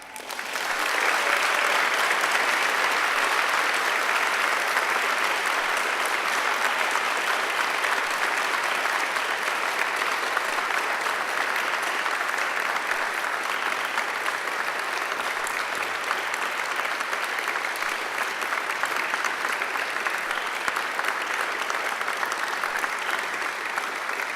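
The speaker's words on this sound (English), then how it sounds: "give them a wild round of applause" Graduates in a university graduation ceremony hall give their families and friends a long round of applause: loud, dense, even clapping from a large crowd that holds steady for over twenty seconds.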